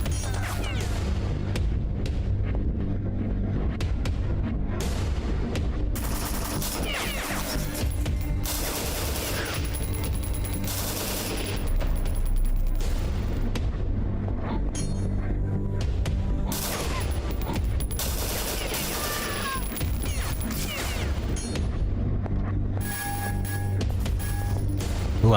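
Gunfire in the video game The Citadel: repeated loud shots and booms in dense irregular bursts over a constant low rumble, close and sustained across the whole stretch.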